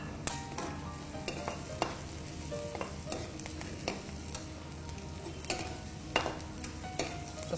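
Onion, ginger, garlic, green and dried chillies and curry leaves fry in a pan with a steady close sizzle, broken by repeated sharp clicks and scrapes of a spoon stirring against the metal.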